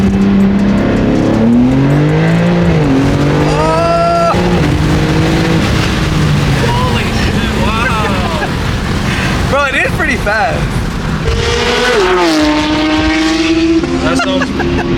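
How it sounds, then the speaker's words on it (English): BMW G80 with a downpipe and tune accelerating hard, loud and close, its engine note climbing through several gears with sharp shift breaks, while people talk excitedly over it. "That shit sounds so sick. Guys, look how fast this thing is."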